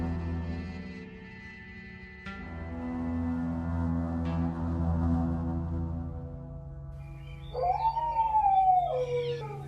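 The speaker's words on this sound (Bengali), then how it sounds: "পুরোটা সময় জুড়েই বিয়ে বাড়ির পাশে একটা কুকুর বসে কান্না করতে থাকে।" A dog beside a wedding house at night howls and cries in long sustained wavering tones that shift in pitch, rising to a higher whining wail near the end, with no talk over it.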